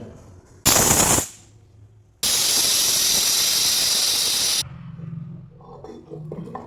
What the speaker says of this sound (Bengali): মিক্সি জারের মধ্যে দিয়ে পেস্ট করে নেব।